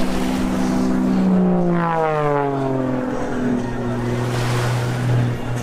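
An Extra 300 aerobatic propeller plane drones past low just above the water, rolling, its engine pitch sweeping down as it passes, over a steady wash of surf.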